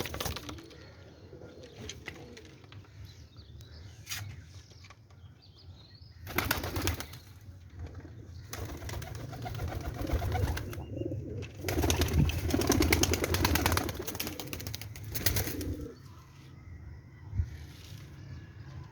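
Pigeons in a Pakistani pigeon-keeping loft make soft, low cooing calls, broken by several loud bursts of wing flapping and scuffling close by, with no talk.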